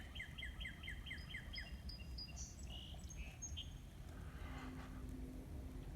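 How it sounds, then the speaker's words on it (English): Evening birdsong outdoors on a rural property with cattle grazing nearby: repeated bright chirping phrases and scattered calls over a steady, even background hiss, fairly distant and moderate in level. "Listen to the birdies sing."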